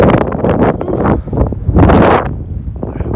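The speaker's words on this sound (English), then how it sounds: "Windy though." Wind gusts buffet the microphone outdoors at a muddy pit beside a lifted Ford F350, a loud continuous roar rising and falling through the clip, with a short exhaled breath near the start.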